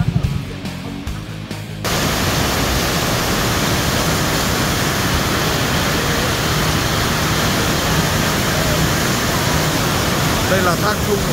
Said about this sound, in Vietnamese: Đây là thác Thung ở Tân Lạc Hòa Bình nhé.